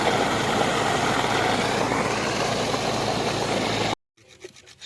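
A loud, steady borewell water pump motor on a 4-inch bore drones with a rough broadband rumble, then cuts off abruptly near the end, leaving faint quiet background sounds.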